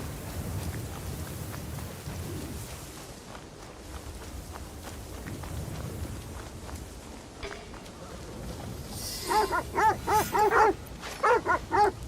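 Dog in Assassin's Creed Shadows, a series of short, close high-pitched yelps and whimpers near the end of the clip, over steady rain on surfaces and faint footsteps.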